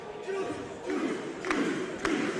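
Wrestling crowd at a live show cheering for Juice, swelling in rhythmic chant-like waves of voices with a couple of sharp thumps, moderately distant and filling the whole moment.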